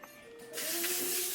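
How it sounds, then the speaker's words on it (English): Cooking oil sprayed from a can into baking pans in a home kitchen, a close, steady hiss that starts after a quiet moment and runs on alone. "I'm going to show them is how to spray the cooking oil in the pans."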